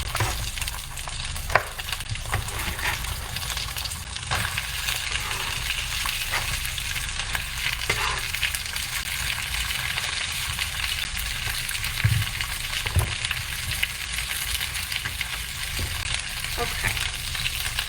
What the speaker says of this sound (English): So all the squash is in the pan now.